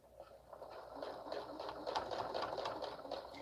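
A sewing machine stitches through a minky baby blanket and its tag, a quiet, rapid rhythmic chatter of the needle running continuously at close range without speech.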